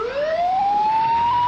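A siren from an emergency ambulance dispatched from a fire station, one loud clear electronic tone sweeping steadily upward in pitch over road noise, close and dominant with no voices.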